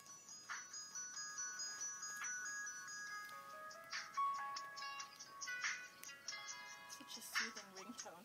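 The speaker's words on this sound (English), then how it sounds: "Such a soothing ringtone, Suzette." A melodic electronic phone ringtone plays a repeating chiming tune, moderately quiet, with faint rustling and a voice near the end.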